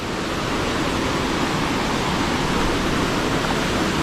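A waterfall near the Thai farm pours down over rocks into a pool, producing a loud, steady, unbroken roar of rushing water close to the listener.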